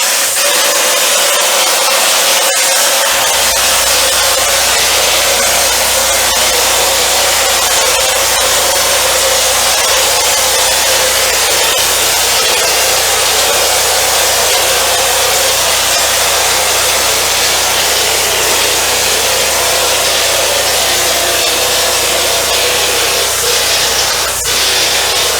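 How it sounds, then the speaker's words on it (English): Older air compressor set around 40 psi runs continuously while a drywall texture hopper gun on the number 3 nozzle sprays, giving a loud, steady hissing and airy rush with no pauses. "I have the compressor set at about 40 pounds"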